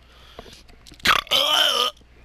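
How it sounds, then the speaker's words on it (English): A burp in the NekoPara video game, a short loud belch followed by a longer, voiced, drawn-out one, with quiet surroundings before and after. "Burps for days."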